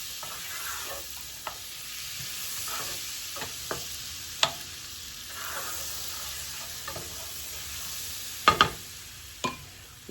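Butter melting and sizzling in a pan on the stove while cooking cube steak; a soft, continuous hiss runs throughout, punctuated by a few sharp clicks and scrapes of utensils against the pan.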